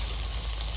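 Food sizzles on a barbecue with a steady, close hiss, heard alone for a brief moment.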